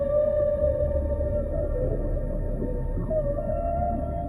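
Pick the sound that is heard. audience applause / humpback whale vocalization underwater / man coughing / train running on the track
humpback whale vocalization underwater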